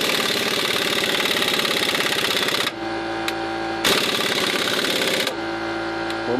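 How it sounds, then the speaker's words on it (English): A small air compressor runs loud and close, its steady motor drone dipping and changing pitch twice as the load shifts, with no talking. "Don't have a very big compressor"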